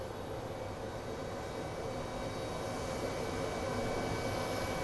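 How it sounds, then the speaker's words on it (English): A Boeing 777 jet airliner comes in at Phoenix Sky Harbor, a continuous broad rushing jet roar, steady and moderately distant, with no voices. "So we do have a Boeing 777 coming in."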